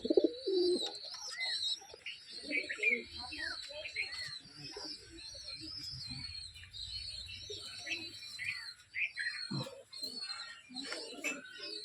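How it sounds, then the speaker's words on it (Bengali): Punjabi Giribaz pigeons coo softly and repeatedly close by, with scattered chirps and rustling among the low throaty calls. "গিরাবাজ পায়রা, পাঞ্জাবের গিরাবাজ।"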